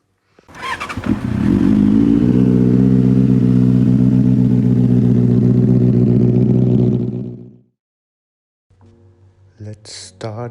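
A Benelli 600i motorcycle engine starts and runs with a loud, steady four-cylinder drone for about six seconds, then cuts off into silence, followed by a brief, fainter sound.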